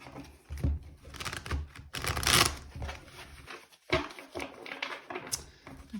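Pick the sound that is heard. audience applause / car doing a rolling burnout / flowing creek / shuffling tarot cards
shuffling tarot cards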